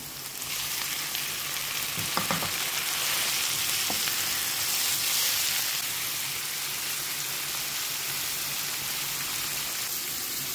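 Shrimp hits a hot pan with garlic, ginger and onion, giving a steady, even sizzle with a couple of brief clinks early on.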